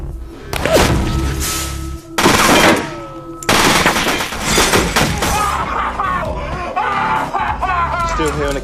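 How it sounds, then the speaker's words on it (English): Bursts of gunfire and crashing impacts from a film shootout between rival gangs, loud and close, clustered in the first few seconds and then thinning out under tense voices and music. "Still hear an occasional gunfire."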